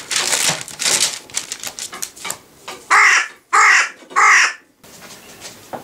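A crow caws three times in loud, distinct calls, preceded by crinkly rustling and followed by quieter noise, during a New Year bird feeding outdoors.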